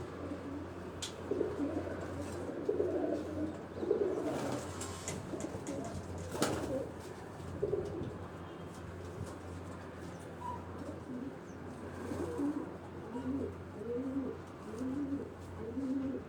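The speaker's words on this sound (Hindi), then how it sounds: "कैसे लगे हैं दोस्तों आपको ये कबूतर ये बड़ी पुरानी ब्रीड है बड़ी नायाब ब्रीड सियालकोटी नस्ल से लग रहे हैं ये कबूतर" Old, rare Sialkoti-breed pigeons coo softly on a rooftop, repeated low rolling coos at close range, with a few faint chirps and scattered background noise.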